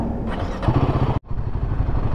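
A motorcycle engine runs loud and close at a toll plaza, with a steady rough drone and a brief sharp dropout partway through before it picks up again.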